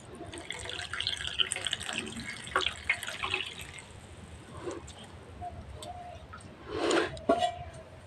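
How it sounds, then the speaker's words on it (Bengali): Chhena (paneer curds) rinsed with cold water, with intermittent splashing and trickling from a tap, stronger near the end, under faint background noise. "ছানা ঠান্ডা জল দিয়ে 3-4 বার ধুয়ে নেব।"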